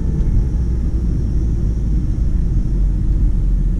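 A 14-year-old Honda Civic pulls away under light acceleration, shifting up into second and third gear; the cabin is filled with a steady, loud low rumble of engine and road noise, with no voices.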